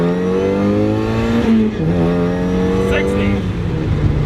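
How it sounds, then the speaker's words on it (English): A 200-horsepower supercharged off-road rally Mazda Miata, 29 years old, accelerates hard from 0 to 60 mph, its engine rising in pitch through a gear change with steady loud drive noise throughout. "we are going to go ahead and test the supercharged Rally Miata's 0 to 60 time"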